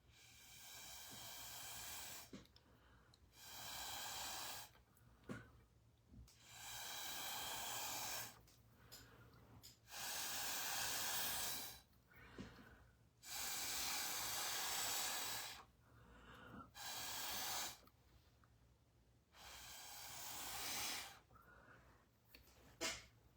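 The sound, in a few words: blowing on India ink drops on paper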